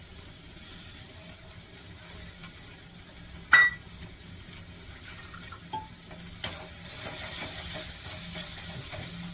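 Ground spices (Kashmiri chilli powder, pav bhaji masala, coriander and cumin powder) are stirred into pav bhaji in a pan, a quiet scraping and mixing with a few brief spoon clinks.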